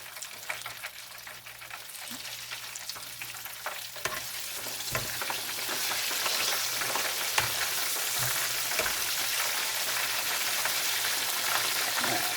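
Perch and bluegill fry in a pan at home in a fish fry, with a crackling, rain-like sizzle that starts moderate and swells louder and denser after a few seconds. Occasional utensil taps come through, and nobody speaks.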